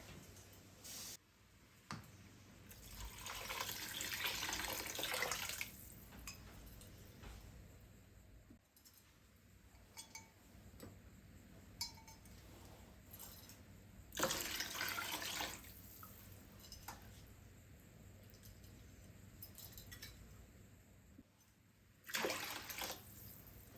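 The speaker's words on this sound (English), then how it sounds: "I'm going to add 10 cups of water." Water runs from a tap in several bursts, splashing loudly into a cooking pot between quieter pauses with faint drips.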